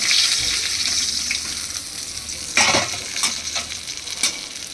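A fish head frying in hot oil for a home-style vegetable and fish curry, loud bubbling sizzle with scraping stirs and a few sharper crackles close up.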